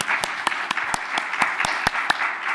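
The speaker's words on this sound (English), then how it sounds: "Let's give him a round of applause for that." Scattered audience applause at an author-visit evening for Jeff Krull, a modest number of hands clapping in irregular, sharp, close claps for a couple of seconds.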